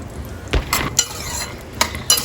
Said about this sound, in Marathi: दोन चमचे तूप घालून आपण त्याच्यामध्ये बदाम परतून घेऊया